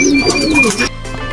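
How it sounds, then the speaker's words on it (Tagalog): A bird, likely a pigeon or dove, gives a short cooing call close by as it lands, then the sound cuts off abruptly into quieter background. "Biglang dumapo at sumulpot ang ibon na hinihintay namin."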